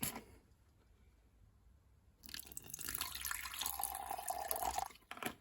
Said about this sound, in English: fill that up with some water